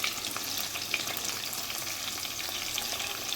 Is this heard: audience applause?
no